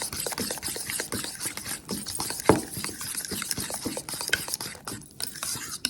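A utensil stirs and scrapes in a bowl as one egg is mixed into ricotta cheese for lasagna, with quick repeated clicks and wet rubbing strokes, close and alone.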